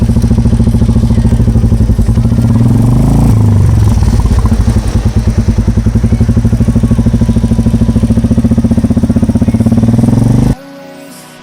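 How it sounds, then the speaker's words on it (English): Royal Enfield Meteor motorcycle with a KP exhaust fitted runs up close, a loud, steady, thumping engine note with a dense rhythmic pulse that holds for about ten seconds and then cuts off abruptly. "Fitted the KP exhaust on Royal Enfield Meteor motorcycle."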